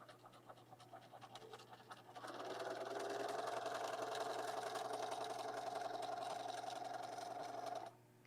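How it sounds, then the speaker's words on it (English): Close up, a sewing machine stitches a quilt border on the diagonal, starting with faint handling and then holding a steady, even motor hum for about six seconds before stopping. "I'm going to sew on that diagonal, making sure it lays nice and flat."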